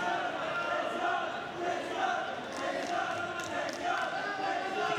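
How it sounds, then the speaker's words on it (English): Players shouting encouragement to teammates during a wheelchair rugby match at the Toronto 2015 Parapan American Games, a crowd-like rumble of voices with scattered sharp clacks in an indoor arena. "You can hear the Colombian players cheering on their teammates."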